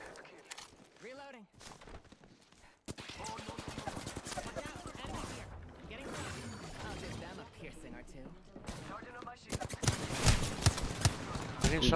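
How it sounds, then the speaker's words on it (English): Rapid bursts of gunfire in a video game pepper the player in a dense, loud mix of repeated impacts and shots, with in-game voices talking throughout and a heavier flurry near the end. "Getting shot in the ass."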